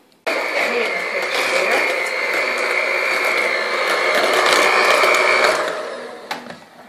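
An electric mixer whirring steadily as it blends butter and sugar for biscotti dough, a loud continuous motor whine that starts abruptly, runs about five seconds, then winds down with a few clicks.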